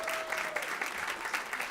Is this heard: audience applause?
yes